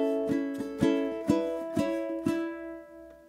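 Ukulele strumming the second ending of an open-chord etude, a run of about six crisp strokes that ring out and fade near the close, played alone and up close.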